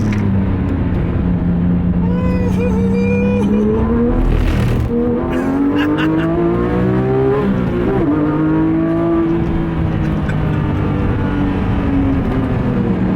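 A Porsche 911 GT3 RS 3.8 howls loudly and continuously as it is driven on the Donington race circuit, its engine note rising and falling through gear changes while it downshifts into corners, close and steady throughout.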